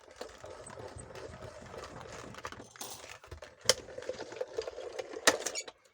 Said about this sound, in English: I do love that die cut machine